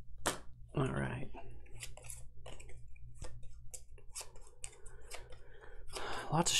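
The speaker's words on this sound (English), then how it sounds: "Lots of shuffling here in the setup." Cards from the Hero Realms deckbuilding game are shuffled and handled at a table in a series of short, close riffling and snapping bursts, with quiet speech between them.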